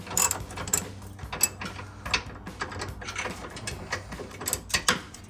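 Hand ratchet cinching down bolts on an Amp Research BedStep on a 2021-2023 Ford F-150, a quick, uneven series of close clicking pawl strokes and metallic rattles.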